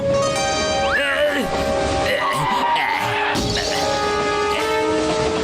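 A cartoon train roars past with a loud, sustained horn and sliding whistle tones over a heavy rolling rumble. Clanking bursts and animated character voices mix in throughout.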